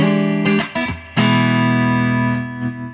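Electric guitar chords ring through a repaired tube amp with the volume up and reverb on, a few quick strums followed by a long sustained chord that decays slowly, loud and close with no talking.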